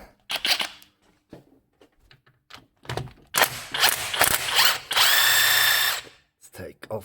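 Bursts of a power tool, likely an impact or drill driver, spin loose a nut on a turbo Trans Am, with short whirring pulses, clicks and one longer run, close and loud with pauses between.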